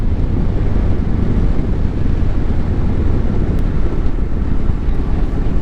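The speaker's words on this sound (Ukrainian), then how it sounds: "Бо якось так жорстко задуває вітер, що в мене нема слів." Strong wind roars constantly and loudly in Prague, a dense low buffeting rush with no pauses.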